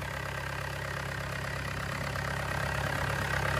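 An N95 engine on a machine under test runs at a smooth, steady idle, a constant close drone with an even mechanical hum and no pauses or voices.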